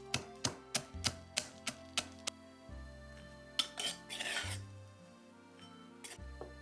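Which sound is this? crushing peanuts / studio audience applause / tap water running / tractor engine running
crushing peanuts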